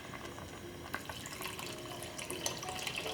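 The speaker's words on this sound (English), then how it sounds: "To cook all those lentils and barley, you're gonna need some water." About five cups of water pour into a pot of kale, lentil and barley stew, a steady close splashing stream with small bright splashes throughout, no talk.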